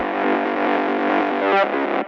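A short burst of heavily amp-distorted synth mid band in a rave techno track, a buzzing, gritty sustained note that shifts briefly before cutting off.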